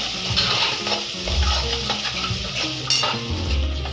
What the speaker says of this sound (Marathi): परत मिक्स करा.